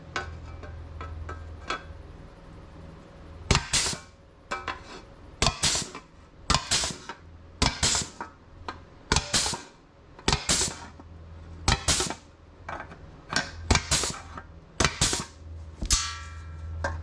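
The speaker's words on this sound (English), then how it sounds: "use this little guy here and punch some holes into it" A hand punch tool drives holes into sheet metal for plug welds while restoring a 1955 VW panel van, giving about a dozen sharp metallic snaps at uneven intervals over a quiet background.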